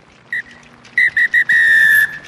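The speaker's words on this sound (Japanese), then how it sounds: "ここでノーサイドのホイッスル。" Referee's full-time whistle ending a Japanese League One Division 2 rugby union match, Hino Red Dolphins against Urayasu D-Rocks: one short blast, then three quick toots and a long final blast, loud and shrill over a faint crowd.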